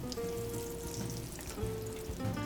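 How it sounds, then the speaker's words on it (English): Sardine croquettes fry in a pan of hot oil, giving a soft, steady sizzle with scattered crackles, while a faint tonal hum sits underneath. "These fry pretty quickly, so you want to keep your eye on it, and also don't overcrowd your frying pan."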